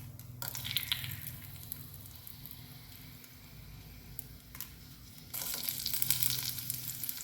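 Mustard seeds, fenugreek and dried red chillies fry in hot oil for a dates pickle: a steady close sizzle with scattered crackles and pops, swelling louder near the end, with no talking.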